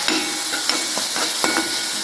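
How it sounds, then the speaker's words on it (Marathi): Finely chopped tomato frying with onion, garlic and chilli in a pan gives a steady, loud close sizzle with a few soft stirring scrapes throughout. "त्याच्यामध्येच आपण आता चिरलेलं बारीक टोमॅटो टाकायचं आहे."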